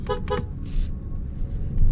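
A car horn gives two quick short honks nearby, followed by a brief electronic chirp over low street rumble.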